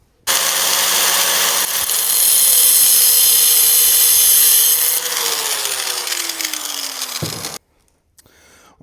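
A power tool cuts into a metal piece for an Army jeep build, a loud steady whining grind with a high hiss that runs for about seven seconds, its pitch slowly sagging as it bites, then stops abruptly.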